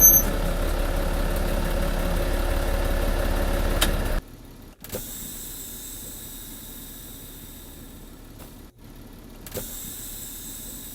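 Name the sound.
manual truck moving forward slowly and stopping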